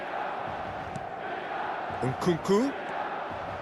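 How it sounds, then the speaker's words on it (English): Stadium crowd in the eFootball game at a Milan versus Manchester United match, a steady broad roar with applause throughout, with a commentator's voice over it. "it's applause all round us here"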